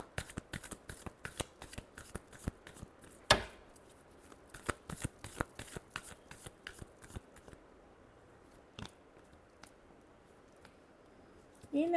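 Tarot cards being shuffled by hand, with rapid crisp riffling slaps and card clicks repeating in bursts and then thinning out, close and fairly quiet, with soft speech near the end.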